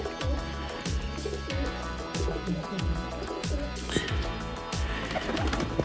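Kamanger pigeons coo in a steady, repeating pattern, low throaty calls rising and falling about every second alongside scattered sharp flutters, close and fairly loud.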